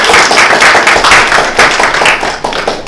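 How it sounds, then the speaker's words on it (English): A small club meeting gives a round of applause for a speech evaluator, close, loud, steady hand clapping from a modest group that lasts a few seconds without talking. "Okay, a round of applause for the evaluator."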